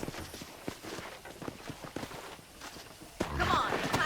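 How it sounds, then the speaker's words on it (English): Rhythmic clip-clop of a ridden horse's hooves at a steady trot in the video game Red Dead Redemption, fairly close, with a louder rustling burst near the end. "let's see if you can still ride a horse"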